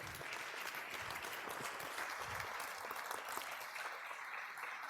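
Church congregation applauding together during a worship service, a steady, dense wash of clapping throughout at moderate distance, with no talk over it.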